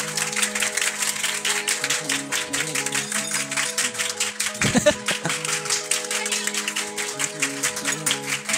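At a Bihar Board Class 10 farewell ceremony, a room of students keeps up steady, dense clapping for several seconds, mixed with music and people talking, plus one louder thump midway.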